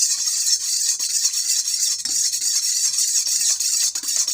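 A homemade wig oil mixture being stirred in a container, giving a continuous close, hissy rubbing and scraping sound that stays fairly even throughout.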